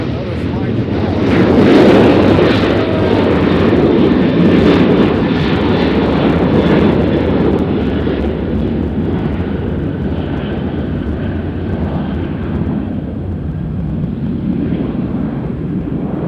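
A big American Airlines jet bound for DFW moves at Nashville International Airport with a loud, broad engine roar. It swells early, then holds as a steady rumbling drone that eases slowly while the jet moves off.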